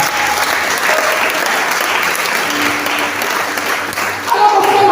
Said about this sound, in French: Ah, donne des acclamations.